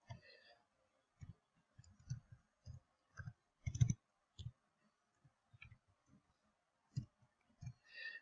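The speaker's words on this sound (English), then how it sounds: "I'm going to type it in here." A password is typed on a computer keyboard as a scattered series of soft, close key clicks and taps at an uneven rhythm, with faint murmuring in the background.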